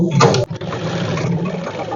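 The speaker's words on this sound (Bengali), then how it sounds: "যে আমি সেলাইটা করেছিলাম ঠিক তার উপর দিয়ে আমি সেলাই করে দিচ্ছি চাপ সেলাইতে দিয়েছি" A sewing machine top-stitching a blouse gives a short burst of whirring stitches, then a steady mechanical hum carries on under a woman's speech.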